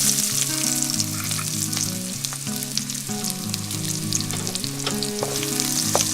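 Onions frying in oil with mustard seeds, a loud dense steady sizzle and crackle with busy popping, close up, while music plays underneath and no one speaks.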